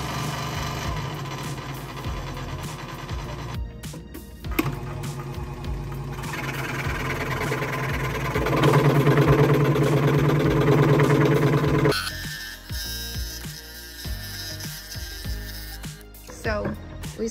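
A scroll saw fitted with a pin blade runs at low and then high speed while cutting wood about three-quarters of an inch thick, giving a steady buzzing, rattling mechanical drone that swells louder mid-clip, with a person talking over it.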